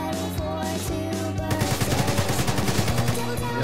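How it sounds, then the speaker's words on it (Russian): Gunfire in the video game DayZ: a few scattered shots, then a fast burst of automatic fire that rattles on steadily at close range for about two seconds. "Еще они со стороны кордона стреляют."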